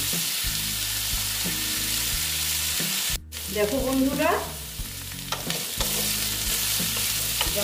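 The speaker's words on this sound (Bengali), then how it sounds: "হলুদ দিয়ে আবার আমি এইগুলোকে ভালো মতো ভেজে নিচ্ছি।" Squash and potato pieces fry with turmeric in a pan, sizzling loudly and steadily up close with stirring scrapes, while a voice speaks briefly near the start.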